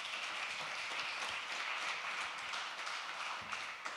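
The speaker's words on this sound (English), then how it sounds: "try and keep clapping until he comes to the stage" An audience at a talk keeps up continuous applause, a faint, even patter of many hands clapping throughout.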